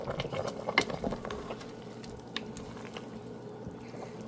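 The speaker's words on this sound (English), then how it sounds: "I'm going to mix this up." Wet squishing and soft pattering as seasoning is stirred into oxtail stew, irregular and close, fading to quieter scraping and clicks after the first couple of seconds.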